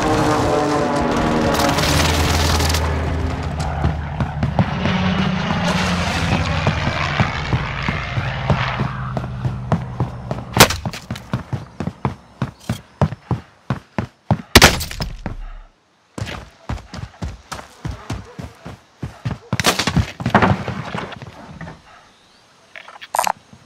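A precision airstrike in Call of Duty Pacific starts with a loud aircraft roar that swells and fades. Then comes a long volley of sharp, close explosions and impacts in irregular bursts, with brief silent gaps between them.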